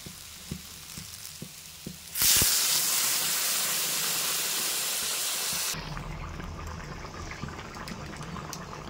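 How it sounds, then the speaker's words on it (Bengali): Water is poured into a hot pan of frying chickpea and potato curry, bursting into a loud, steady hiss for about three seconds before settling into a quieter, low bubbling simmer. No voices are heard. "এবার পরিমাণ মতো জল দিয়ে দেবো"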